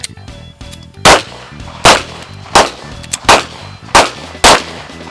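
Six loud handgun shots at an outdoor shooting range, fired one at a time at roughly even intervals while the shooter moves, each crack sharp and close with a short echoing tail.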